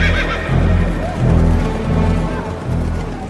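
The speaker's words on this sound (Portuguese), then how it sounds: "os mensageiros montaram cavalos ligeiros da estrebaria real" Horses whinny and neigh loudly up close while hooves clatter beneath in an uneven galloping rhythm, with the calls rising and falling in several bursts.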